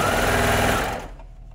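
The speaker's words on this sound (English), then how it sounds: "get a few stitches in, and then I'm just going to keep lining the pieces up as I sew" Sewing machine stitching lined-up fabric pieces for a shirt, a loud, steady rapid whir of the needle that stops abruptly near the end, leaving quiet.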